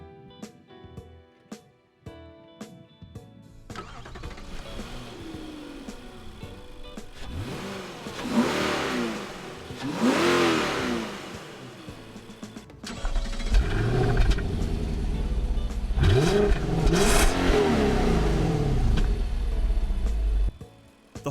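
A 2016 Infiniti Q70L's 5.6-liter V8 starts up, then revs repeatedly in rising and falling sweeps, loud and close with a deep rumbling idle between bursts.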